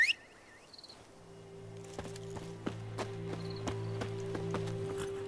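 Hooves of Roach, the horse in The Witcher 3, clip-clop in a steady quickening rhythm over a low droning music bed after a brief high chirp at the start.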